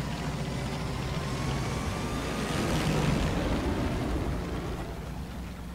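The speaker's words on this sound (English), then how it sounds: "Okay, it played a boat sound. I don't know why." A low rumbling boat with a wash of water from the video game Far Cry 5 swells in the middle, then eases slightly, continuous throughout.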